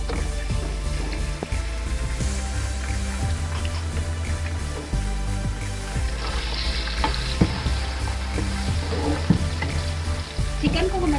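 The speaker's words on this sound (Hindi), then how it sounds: "चिकन को हम अच्छे तरीके से फ्राई कर लेंगे।" Chicken pieces frying in hot oil for pasta, a loud continuous sizzle with bursts of crackling and occasional stirring clinks, close up and without talk.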